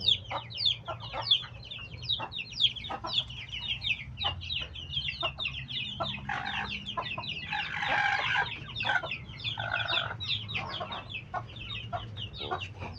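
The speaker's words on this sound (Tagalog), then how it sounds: "Yung mga manok, mga alagang manok ko." Several backyard chickens cluck and chatter steadily nearby, with occasional louder squawks, over a low background hum.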